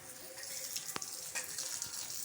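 Running water from a tap splashes steadily into a basin while a cat is being bathed, a close, continuous wash with a couple of brief sharper splashes.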